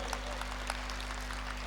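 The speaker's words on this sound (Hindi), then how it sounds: "a round of applause for him" An audience at a motivational talk at Shaheen College in Bidar breaks into steady applause, a dense, even patter of clapping from a crowded hall with no voices over it.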